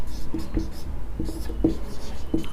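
Chalk or marker taps and scratches against a board while writing math in a classroom, with soft irregular strokes running under a quiet background.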